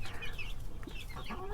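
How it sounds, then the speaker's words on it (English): Adult chickens and young chicks in a chicken run at an off-grid homestead cluck and chirp softly at close range, a steady scatter of short calls with no talking. "So we got the big adult chickens over there."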